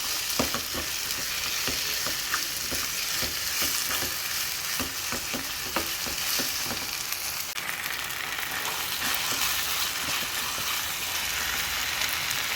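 Curd is stirred into mutton biryani masala in a hot pan, giving a loud continuous sizzle with rhythmic scraping strokes of the spoon, close and steady without talk.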